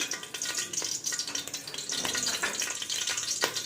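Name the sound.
young jackfruit frying in hot oil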